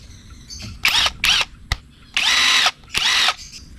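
A Bosch GDX 18V 285 brushless cordless impact driver fitted with a 21 socket runs in four short bursts at close range, whirring and hammering between pauses with a click in between.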